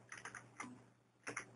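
A few soft keystrokes tap on a computer keyboard in small clusters with a pause between, faint and close in a quiet room.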